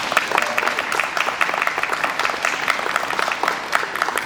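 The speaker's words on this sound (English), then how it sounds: "give them a round of applause also" Crowd applause at a ward affordable housing resource fair, dense and fairly loud clapping filling the room throughout.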